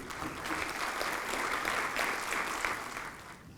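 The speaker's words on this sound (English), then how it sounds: "A big round of applause for our gold medalists and the PhD awardees, please." A seated audience at a university convocation ceremony gives sustained applause for gold medalists and PhD awardees, a dense, even clapping that rises, holds and begins to fade, heard somewhat distant and without talk.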